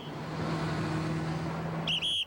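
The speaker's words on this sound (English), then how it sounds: "driving into the stadium into one parking lot" A car drives into the stadium parking lot, a steady engine hum with a short high whistling squeal near the end and no talking.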